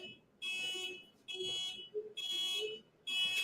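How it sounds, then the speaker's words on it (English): An electronic alarm beeps in four loud, evenly spaced bursts with short silent gaps, close and alone. "Somebody alarm going off."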